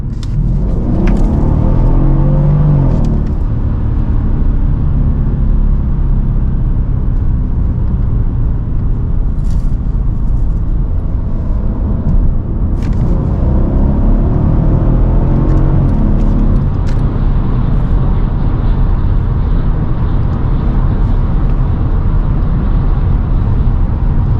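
A 2016 Mercedes-Benz CLS 550 with a V8 engine drives on the Autobahn, a continuous loud low rumble of engine and road noise from inside the cabin, rising in two stretches as it accelerates.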